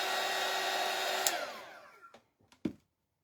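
A hair dryer blows steadily on a wet craft sign, a continuous broadband whoosh that cuts off partway through, followed by a few short knocks and handling sounds.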